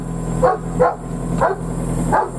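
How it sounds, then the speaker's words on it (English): A dog barks loudly four times in an even rhythm, close by, over the steady low rumble of an idling excavator on a cold day. "There's the dog."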